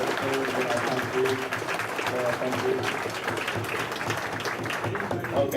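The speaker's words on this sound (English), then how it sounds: "give a nice round of applause for all the people that have served in our country" A crowd at a Strathmore, California alumni dinner gives a steady round of applause for people who served in the country's military, a dense, even wash of clapping throughout with some voices mixed in.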